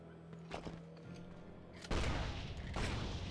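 Booming cannon blasts in Torchlight 2: a couple of sharp thumps early on, then a heavy, loud barrage of explosive fire rumbling continuously to the end.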